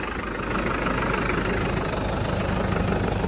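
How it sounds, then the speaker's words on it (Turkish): A steady, low diesel engine of a Deutz-Fahr 5090G tractor idles continuously during baling work, a broad rumbling drone with no change in pace and no voices. "Traktörü o işten stop etmedim sıcak diye"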